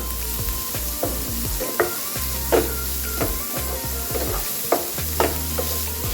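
Grated cauliflower stir-fry sizzling in a pan, a steady frying hiss with repeated scraping and clinking strokes of a spoon stirring, close and clear.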